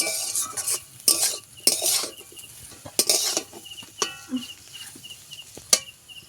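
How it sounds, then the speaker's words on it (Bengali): A spatula scrapes and clinks against a wok while a cauliflower and potato chop filling is stirred, with sharp intermittent metallic taps and light frying hiss; a rooster-like call sounds faintly in the background. "ভালো করে একটু মিশিয়ে নেবে পুরটা এই যে কড়াই থেকে ছেড়ে ছেড়ে আসতেছে"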